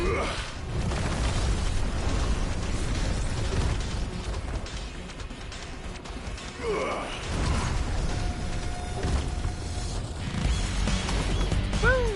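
Explosions in the Final Fantasy XVI action game, booming bursts over a busy mechanical combat din, repeated several times across the stretch.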